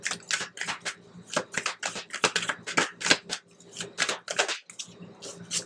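Cards are shuffled in rapid, crisp riffling bursts, a steady flurry of papery flicks close by with no talking.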